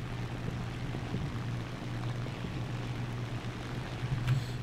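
A propeller aircraft engine droning steadily in War Thunder, a low constant hum held at a faint, even level throughout.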